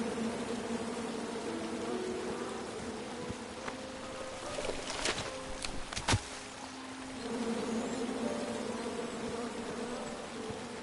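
Bees buzz in the King's Quest video game, a steady droning hum with a few sharper tonal swells in the middle, heard alone without speech.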